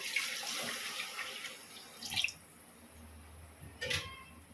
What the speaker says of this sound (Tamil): இந்த ஸ்டேஜில் நம்ம தண்ணி சேர்த்துக்கலாம் நான் ஒரு ஆறு கிளாஸ் தண்ணி சேர்க்க போகிறேன்